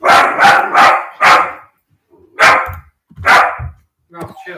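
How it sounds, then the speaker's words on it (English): A collie puppy gives a series of loud, close barks, several in quick succession and then a few spaced single barks with short pauses between. "The noise you heard was a dog."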